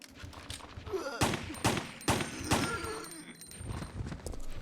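Pistol gunfire in the survival-horror game Resident Evil 3 Nemesis, sounding as several sharp, loud shots spaced about a second apart over a low game-ambience rumble.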